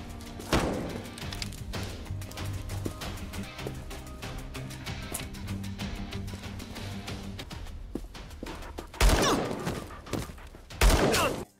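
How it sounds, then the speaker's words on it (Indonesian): Gunfire and fighting in an action film scene as a female assassin takes down gangsters: a steady rumbling bed, then two loud, dense bursts of shots and impacts near the end. "Sementara baku hantam dan baku tembakan terjadi."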